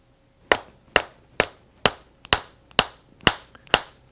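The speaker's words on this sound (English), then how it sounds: "I'm going to take a dead blow hammer. I'm going to drive the bar, this is actually called a T-bar," A dead blow hammer strikes a steel T-bar to drive it out of a coilover shock, eight sharp, evenly spaced metallic knocks about half a second apart, close and fairly loud, each with a short ringing decay and no talking.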